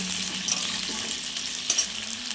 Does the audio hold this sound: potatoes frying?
yes